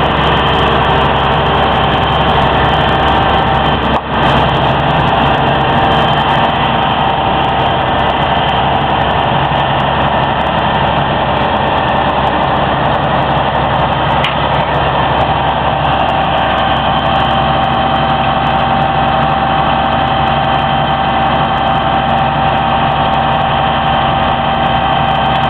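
A heavy tow truck engine idles steadily during a side-pull recovery, a loud continuous low rumble with an even mechanical drone that holds unchanged from start to finish.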